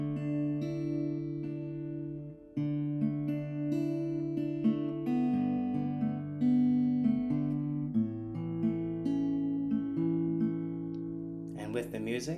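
Acoustic guitar plays a melodic passage, sustained picked notes, moderately quiet, with a brief noisy burst at the very end.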